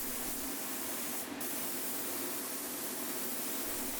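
A spray gun lays a second coat of primer on old office furniture in a spray booth, a loud, close, unbroken hiss with a brief sharper burst near the start.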